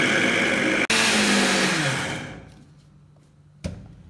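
A mixer grinder coarsely grinding chana dal, roaring loud and close for about two seconds and then winding down to a stop, followed by a short clunk.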